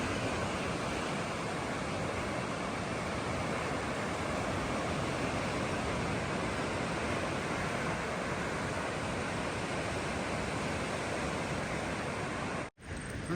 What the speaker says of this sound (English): A steady flowing spring well right here at the rest area